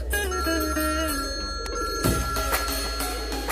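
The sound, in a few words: telephone ringing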